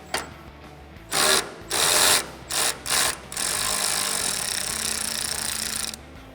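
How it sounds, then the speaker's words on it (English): A ratchet turning an 18mm socket to free a sway bar end link from its upper mount, several quick bursts of rapid clicking followed by a longer steady run of ratcheting, loud and close. "we're gonna go ahead and disconnect our sway bar end link from the upper mount. Now this is the same 18mm socket that we already started out with."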